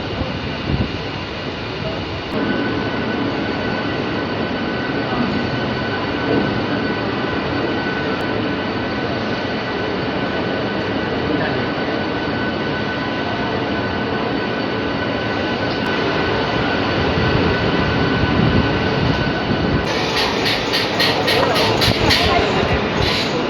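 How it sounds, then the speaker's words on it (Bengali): A Panskura–Digha special local train pulls into Digha station, its steady, loud rumble of rolling wheels and carriages continuing close by for the whole stretch with no break. "আমাদের গাড়ি এখন প্রবেশ করছে দীঘা স্টেশনে"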